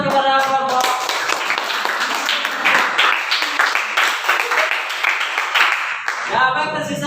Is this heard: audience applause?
yes